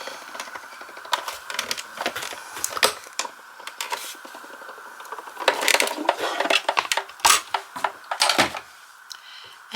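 A die, foil and cardstock sandwiched under a B-plate are cranked through a die-cutting and embossing machine, giving close irregular clicks, clunks and grinding rattles that grow busier toward the end, with no voices.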